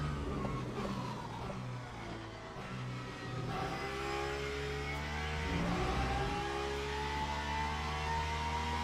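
Hypercar racing engines in Le Mans Ultimate at Interlagos, a steady loud roar with rising and falling whine as cars pass a Lamborghini hypercar on the straight, continuous with no gaps and no talk.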